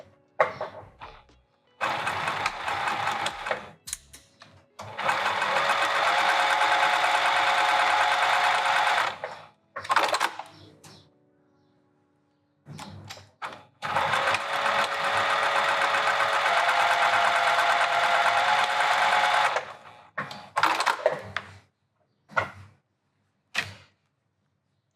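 A sewing machine stitches vinyl handbag seams in two long steady runs of several seconds each, close and clear, separated by short pauses filled with handling clicks and fabric rustling.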